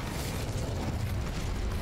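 The Incendio fire spell is cast in Hogwarts Legacy, a continuous roaring, crackling whoosh of flame that stays loud and dense throughout without any talking.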